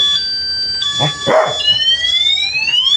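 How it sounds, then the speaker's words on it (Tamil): Electric scooter security alarm blaring a loud electronic siren of stepped and rising tones, close and continuous with no talk. "வண்டியை தொட்டா கத்திக்கிட்டே இருக்கும்"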